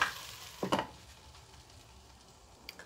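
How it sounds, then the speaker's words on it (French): Potatoes browning in a pan with pepper and stock added, a soft steady sizzle with one brief scraping stir near the start and a small clink at the end. "Je vais laisser encore rissoler."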